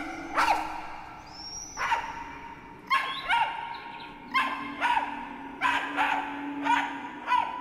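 A dog barks in the horror film Terrifier 3, giving about nine sharp, evenly spaced barks over a low steady hum, close and loud with no voices.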